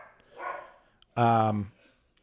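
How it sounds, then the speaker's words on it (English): A dog barks once, loudly and close, right after a brief faint murmur. "Oh, I hear my dog's barking."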